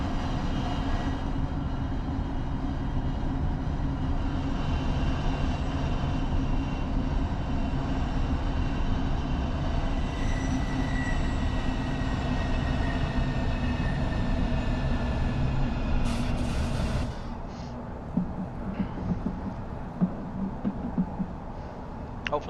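Train from a train simulator game on the Chiltern Main Line rumbling past loud and steady with a continuous drone, then cutting off sharply near the end to a quieter scene with scattered clicks.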